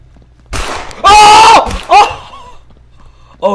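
A loud gunshot and sharp bursts in the stealth video game Sneak Thief, followed by a startled scream, with a few more abrupt pops and yelps scattered over the next seconds.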